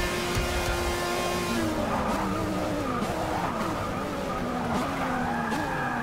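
A race car in Forza Motorsport 6 braking hard: engine revs drop while the tires skid and squeal loudly, then a sustained screech and engine note continue through the corner, with no voices.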